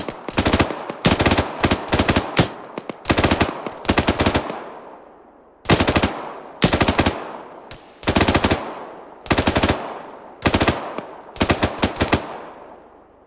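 Automatic gunfire in a military video game attack on a base, loud bursts of rapid shots repeating in groups with short ringing gaps between, no talk.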